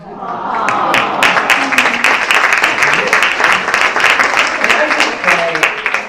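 A conference audience at HRFL Conference 2024 breaks into loud, sustained applause, dense clapping filling the room for several seconds with faint voices mixed in.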